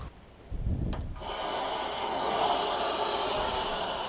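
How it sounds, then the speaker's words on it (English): Water blasts out of a water heater drain as sediment is flushed, a sudden rush after a brief clunk that settles into a steady, faint hissing stream. "Try to do a little blasting of water here."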